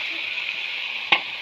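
A spoon stirs fish fry gravy in a pan over a steady, close frying sizzle, with one brief scrape of the utensil near the end.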